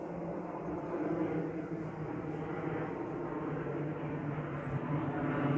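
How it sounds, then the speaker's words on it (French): A military airplane flies overhead, its broad rumbling drone faint and distant and slowly swelling, heard outdoors over a vegetable garden with no talk. "on va attendre que l'avion passe maintenant"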